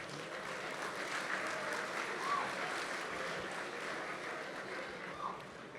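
Steady applause from a banquet audience at an awards dinner, sustained and fairly even throughout, a dense patter of many hands with no talking over it.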